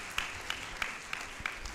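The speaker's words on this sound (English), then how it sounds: "I think he deserves another applause." Quiet, distant applause from an audience at a university convocation ceremony in Ibadan, Nigeria, a soft steady wash of clapping with a few sharper individual claps standing out.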